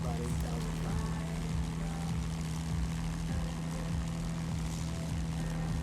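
Warbird propeller aircraft engine droning steadily in a flight simulator game during a cruise descent, a constant low hum with a rhythmic propeller beat throughout.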